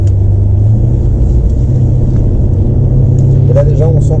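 A 600 hp BMW M5 engine pulls hard in sequential mode, giving a loud, deep, steady rumble close up that sits under a faint voice.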